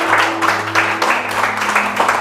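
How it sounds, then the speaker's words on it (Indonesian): A church congregation claps for God in steady, moderately loud, rhythmic waves over a low background hum. "Beri tepuk tangan buat Allah kita"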